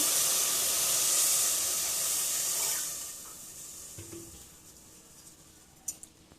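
Water gushes and hisses loudly at first, then quiets to gentle sloshing and a few small clinks as lentils are rinsed in a pot.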